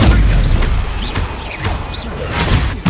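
A Confringo blasting spell explodes in the fantasy game Hogwarts Legacy, loud deep booms and crashes during a hectic duel, with whooshing magical effects and short vocal sounds mixed in.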